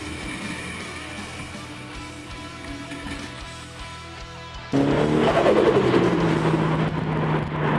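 Turbocharged Toyota 86 engine on a drive, a steady muffled cabin drone that suddenly jumps louder midway as the throttle opens, with a rising pitch sweep under continuous road noise.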